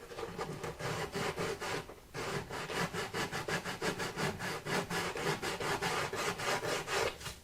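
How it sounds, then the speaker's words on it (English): Stiff sandpaper is worked by hand around the edge of a Martin acoustic guitar's soundhole, giving close, steady, rhythmic rasping strokes with one brief pause partway through. "I'm just using this stiff sandpaper like this"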